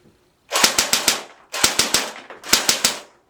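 CYMA CM049 MP5 airsoft gun with blowback, fired indoors at a target from a desk on a tired battery: three short bursts of about four rapid, sharp, clacking shots each, loud and close, with brief pauses between.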